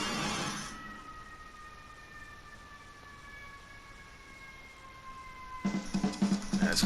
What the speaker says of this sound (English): That's a siren. Police siren.